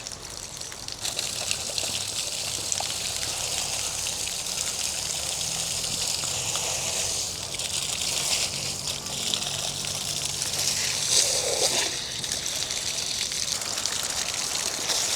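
Ordinary tap-pressure water runs steadily into a car's DPF filter during cleaning, a continuous close gushing and trickling with no talk over it.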